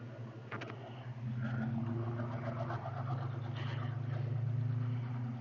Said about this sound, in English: It's like an old Ford or Mercury or something. Sounds nice. It's definitely not electric.